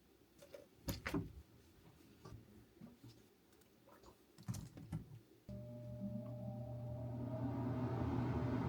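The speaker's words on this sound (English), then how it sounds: "Do you all hear that AC? Do you hear it?" A steady mechanical hum of an air conditioner kicks in partway through and keeps droning loudly, after some earlier knocks and clatter.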